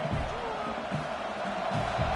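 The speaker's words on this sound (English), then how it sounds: "Listen to this crowd just shaking the girders of this place, trying to help their defense." A stadium crowd at a football game roars in a sustained, distant wash of cheering and noise, with a commentator's voice faintly under it.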